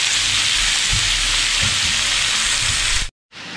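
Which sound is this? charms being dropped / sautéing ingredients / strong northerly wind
sautéing ingredients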